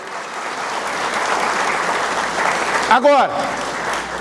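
A church congregation claps together in steady applause through a worship service, with a short spoken word from the preacher cutting in partway through.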